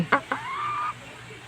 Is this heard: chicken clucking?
yes